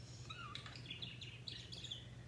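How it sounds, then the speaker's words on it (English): A pet bird chirps indoors, a series of faint, quick tweets over a low steady hum in the room. "And the bird's gonna yell,"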